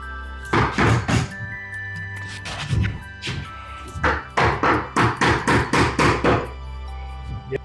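Floorboards in a 1907 house are struck again and again during installation, giving loud, close, dull thunks in irregular bursts that grow into a quick run of blows near the end.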